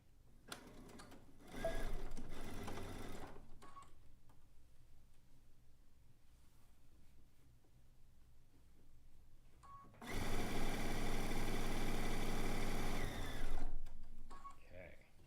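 Sewing machine back stitching the opening seams of a zig zag quilt, two close bursts of steady mechanical whirring separated by quieter handling sounds, with a longer louder run near the end.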